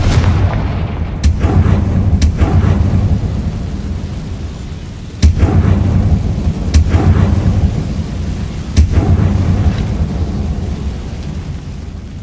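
In the Hogwarts Legacy video game, the Confringo fire spell sets off several sharp explosive booms at irregular intervals over a loud, continuous rumbling, rain-like wash of background noise.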